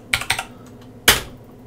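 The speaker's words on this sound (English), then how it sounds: "enter my name by typing it" Keys tapped on a Commodore Amiga keyboard to enter a name in the game Maniax: a quick cluster of three crisp clicks, then a short pause and one heavier keystroke.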